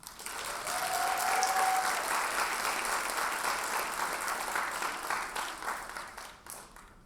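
Nursing graduates at a candle-lighting ceremony break into sustained applause, a dense wash of clapping that swells quickly, holds steady for several seconds, then thins out toward the end.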